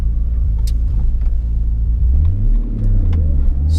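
A turbocharged 2JZ-swapped Lexus IS300 runs while driving, its engine a loud, close, deep rumble with rising and falling revs as it accelerates, continuous and unaccompanied by voices.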